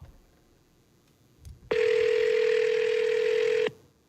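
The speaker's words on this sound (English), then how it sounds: "let me just get on the phone, okay?" A loud, steady telephone tone sounds for about two seconds after a brief faint click, as a call is placed, with no talk over it.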